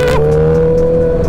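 A car engine revs hard and steadily as the driver accelerates, a loud, close, sustained drone with no talk.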